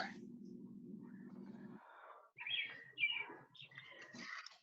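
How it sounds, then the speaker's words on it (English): Birds chirp through an open door at a house, scattered short tweets and calls after a steady low hum fades, moderately close and intermittent. "You hear birds at somebody's house."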